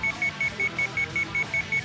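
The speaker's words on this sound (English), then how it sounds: "Oh, this beeping. It is not helping." Regular electronic beeping from the video game Sweet Fuse: At Your Side, about ten short evenly spaced beeps in under two seconds, steady and prominent over a soft music bed.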